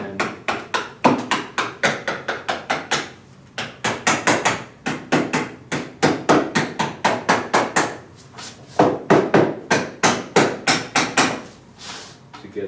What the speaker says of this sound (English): Grab our hammer here